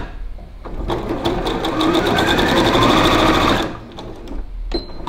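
A sewing machine stitches a seam on a fabric mask in a fast, close, steady whir lasting a few seconds. Brief clicks come before and after it.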